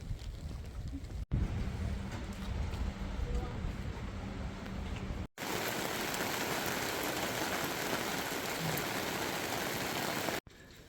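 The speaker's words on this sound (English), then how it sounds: "So, it is raining." Rain falling steadily in an alpine area of Switzerland, Liechtenstein or Austria, a constant hiss of drops heard across several cuts, with a low rumble in places.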